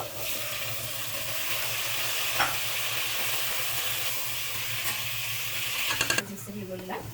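Red onions fry in a pan for Ethiopian alicha while being stirred. A steady, close sizzle carries occasional scraping stir strokes, with a cluster of clatters near the end.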